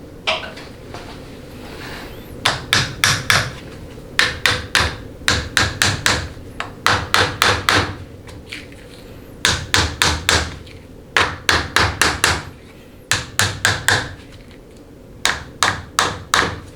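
Bursts of sharp taps ring out in quick clusters with short pauses between them as parts of a 62TE transmission input housing are tapped into place, loud and close with no talk.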